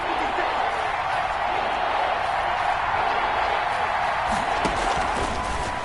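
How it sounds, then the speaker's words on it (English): A stadium crowd in a football video game roars steadily as a big third down approaches, a dense, continuous wash of cheering under low commentary-like voices throughout. "The crowd getting into it as we come up on a big 3rd down."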